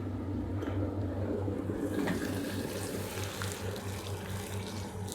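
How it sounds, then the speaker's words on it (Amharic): Salted water heats toward a boil in a pot of rice on the stove, giving a steady, close bubbling wash over a low, constant hum. "ውሃ ይፈልቶልኛል።"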